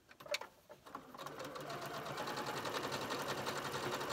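A sewing machine stitches scraps of quilt fabric together for a scalloped crumb quilt border, starting with a few handling clicks before a steady, continuous mechanical whir takes over and runs close and even to the end.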